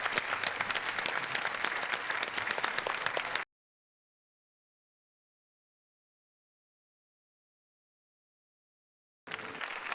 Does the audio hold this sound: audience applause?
yes